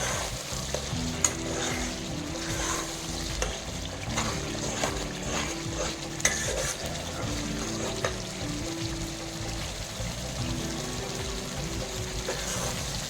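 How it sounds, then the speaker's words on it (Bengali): Spice masala for chicken kosha fries in oil while being stirred steadily, a dense close sizzle with rhythmic spoon scraping and small clinks running continuously without any voices. "ভালো করে মশলাটাকে কষিয়ে নেব"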